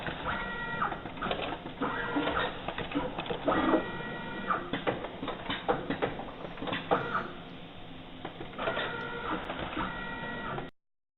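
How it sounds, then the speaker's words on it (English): A pick and place machine sets solder components on a board, making a busy run of mechanical whirring, clicking and patter with rhythmic motor bursts. It is steady and close, then stops abruptly near the end. "a pick and place machine was used to place the components once the contour scans have been taken"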